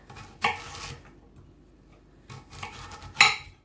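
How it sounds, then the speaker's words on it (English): A knife chopping lengths of carrot on a board, giving two or three sharp close knocks with short ringing tails, separated by quiet gaps. "So what I'm going to do is to chop lengths of the carrot"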